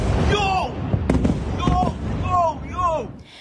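Blasts from Iranian missiles striking nearby in Israel, a sharp crack followed by several rumbling bursts in succession, with people's frightened voices and squeals layered between the impacts.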